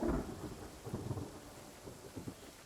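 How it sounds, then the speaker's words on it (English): A fantasy-game thunderstorm: a deep rumble of thunder opens loudly, then fades into a softer rolling grumble with steady rain hiss underneath, no voices present. "looks like the storm's wearing off at least"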